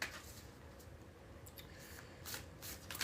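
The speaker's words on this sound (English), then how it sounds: "3 more shuffles." Oracle cards shuffled by hand during a Aquarius and Pisces reading, soft papery riffling and shuffling in several quiet bursts, close and faint, with no talking.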